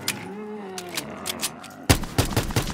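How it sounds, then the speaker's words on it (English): Gunfire in a custom Call of Duty: Black Ops 3 Zombies map starts as scattered shots over a droning tone. It then becomes a louder, rapid string of close, punchy shots near the end. "Oh, why did I fire off all my bullets?"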